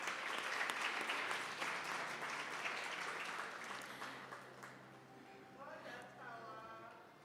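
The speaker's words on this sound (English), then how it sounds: "Let's give him a round of applause." Audience applause at a school academic awards and seventh grade graduation, fairly distant and thinning out over several seconds as a voice begins speaking over the fading claps.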